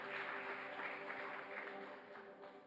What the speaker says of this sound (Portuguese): Aplauda o Senhor, irmãos, e pode sentar.